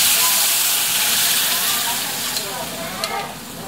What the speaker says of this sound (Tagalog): Ngayon nilalagay na po natin yung pinagpakuluan ng pork belly.